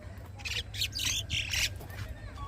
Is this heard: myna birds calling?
yes